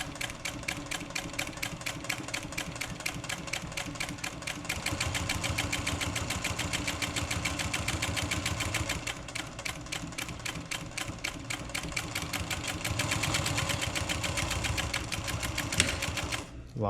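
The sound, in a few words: sewing machine stitching out a collar seam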